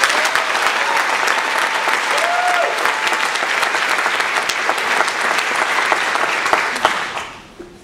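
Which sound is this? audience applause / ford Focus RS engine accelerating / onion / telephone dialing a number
audience applause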